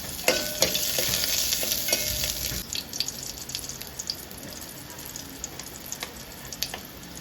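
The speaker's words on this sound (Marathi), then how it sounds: "जिरं कढीपत्ता लसूण नंतर हे थोडंसं भाजून घ्यायचं" Cumin, curry leaves and garlic crackle in a pan of hot oil, a dense close sizzle that starts loud and eases slightly, dotted with sharp pops and spits.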